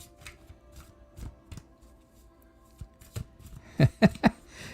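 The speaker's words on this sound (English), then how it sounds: "my fingers are not shuffling today" Playing cards are handled and shuffled during a live show. Scattered soft riffles and taps lead into three sharp, loud card snaps close together near the end.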